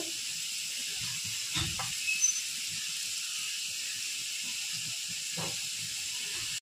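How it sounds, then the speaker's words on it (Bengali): Vegetables fry in hot oil with nigella seeds, turmeric and salt, making a continuous close hiss and sizzle with a couple of soft low thumps from handling the pan, and no voices. "ছোট ছোট করে ভেজে নেব।"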